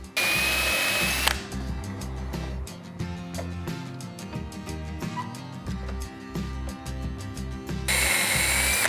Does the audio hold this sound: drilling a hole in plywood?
yes